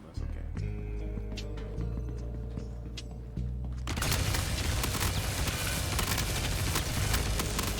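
Ripper SMG gunfire in Star Citizen, a dense full-magazine burst erupting loudly after a few seconds of quieter game ambience, sustained to the end.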